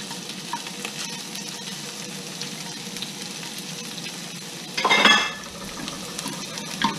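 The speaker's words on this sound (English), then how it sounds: "I'll put this in this hot skillet" Shrimp fry in olive oil in a hot skillet with a constant close sizzle that swells into a loud crackling surge partway through before settling back.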